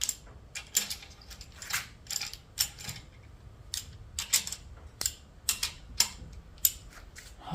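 Ratchet tightening bolts during a D40 engine rebuild: a series of sharp metallic clicks and short ratcheting bursts, close and fairly crisp, in irregular groups with brief pauses.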